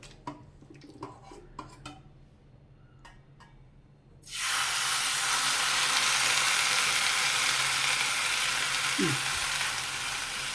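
Masala-marinated chicken drops into hot ghee on a flat tawa, setting off a loud, steady sizzle and hiss that starts abruptly after a quieter stretch of light kitchen sounds and holds close and continuous to the end.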